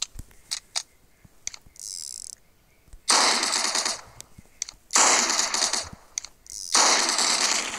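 Weapon combo fire in the Hypper Sandbox video game: loud sustained bursts of rapid gunfire in three long stretches, separated by short sharp clicks and brief mechanical reloading sounds.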